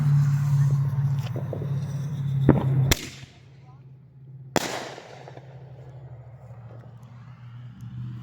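Consumer ball shell fireworks are fired outdoors: two sharp, loud launch cracks a couple of seconds apart, with a steady engine-like hum in the background and a person talking faintly.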